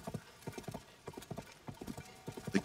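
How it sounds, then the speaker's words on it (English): Horse hooves clip-clop in a rhythmic, even gait while riding in a Zelda video game, crisp quiet beats repeating steadily with no speech over them. "We're riding a horse in a Zelda game finally."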